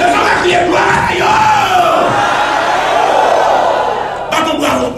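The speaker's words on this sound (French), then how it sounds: "Est-ce qu'on va crier gloire à Dieu?" A church congregation shouts and cheers together in praise, a loud sustained crowd roar of voices rising and falling throughout, with a few higher whoops near the end.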